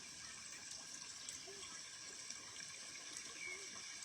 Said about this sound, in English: I hope you can hear the babbling creek and water in the background and the birds